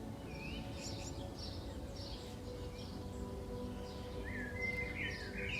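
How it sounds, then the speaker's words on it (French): Birds sing faintly outdoors during a morning yoga session, with scattered chirps and whistled phrases over a steady low background hum. "je suis accompagnée par le chant des oiseaux"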